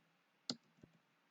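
A single sharp computer mouse click on a save button, close and clean, followed by a fainter second tap in an otherwise quiet room.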